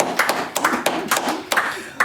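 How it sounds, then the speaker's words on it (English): A small group claps on a podcast set in an uneven, sparse rhythm, with distinct close hand claps in clusters for about two seconds and no talking. "would ask for a round of applause."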